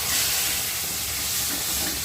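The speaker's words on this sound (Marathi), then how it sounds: "गॅस फास्ट करून याला भाजते" A masala paste of ground spices, cumin powder and salt fries over a high gas flame, giving a dense, loud, continuous sizzle and hiss, close up and without voices.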